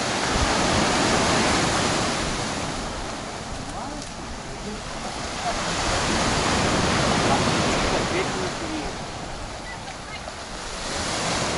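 Stormy sea surf pounds Flamingo beach, a loud continuous roar of breaking waves that swells and eases in slow surges, buffeted by wind noise on the microphone.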